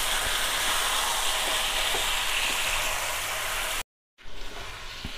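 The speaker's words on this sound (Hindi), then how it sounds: "अब हम इसे मिक्स कर लेते हैं अच्छे से।" Marinated chicken fries in a pan over a low gas flame while being stirred, giving a loud, steady sizzle with scattered scraping strokes and a brief break near the end.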